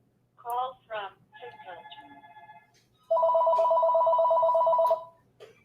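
An incoming call rings on a phone during a fantasy sports live stream, with a steady electronic tone that sounds continuously for about two seconds after brief chirps and bits of talk.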